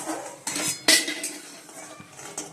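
Metal utensils clink and scrape against a pot while fried lentil dumplings (bori) are lifted out, several sharp knocks over a couple of seconds, close and fairly loud.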